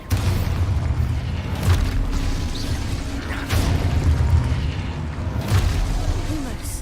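Booming spell blasts of Expulso, an explosion spell in Hogwarts Legacy, go off again and again over a steady low rumble, with a voice talking through the loud combat.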